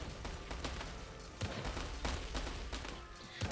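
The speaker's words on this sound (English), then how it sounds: "these rocket cannons are relentless, but they are indiscriminate" Rocket cannons fire in the real-time strategy game War Selection, a rapid irregular barrage of sharp blasts and cracks layered over a constant din of battle noise.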